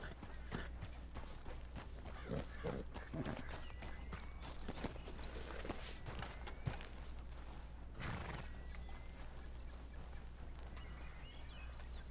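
A horse in Red Dead Redemption 2 clops along with soft, uneven hoof beats and an occasional snort, faint beneath a steady background hum and outdoor ambience.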